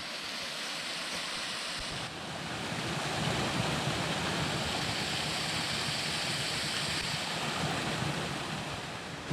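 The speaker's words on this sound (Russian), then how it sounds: "Еще один водопадик небольшой в нашем пути." A small waterfall tumbles through a narrowing rocky gorge, giving a steady broadband rush of falling water that swells slightly louder after the first couple of seconds and continues unbroken, with no voices.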